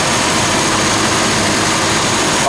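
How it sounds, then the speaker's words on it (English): A 1948 Ford Super Deluxe flathead V8 runs with the hood up, giving a loud, steady engine rumble that stays even throughout with no talk over it. "As we go underneath the hood, we have a great flathead V8 engine"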